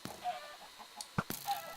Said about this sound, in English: And now there's a lot of chickens down there.